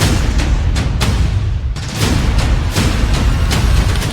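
Firecrackers bursting on Diwali night in Delhi, a dense barrage of loud, sharp cracks and booms in quick irregular succession, layered over a constant roar of distant explosions with no pauses.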